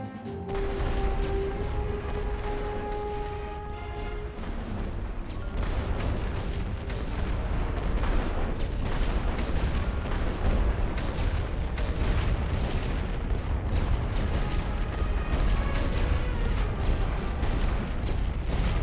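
Artillery suppression barrage in the WWI strategy game The Great War: Western Front, a dense, continuous rumble of distant shelling and booms rolling on steadily, with tonal game sounds in the first few seconds.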